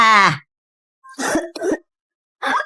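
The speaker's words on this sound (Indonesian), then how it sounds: "Tuh kan batuk terus kan" A child coughs in several short, harsh, close bursts separated by brief silences, with a throat-clearing quality.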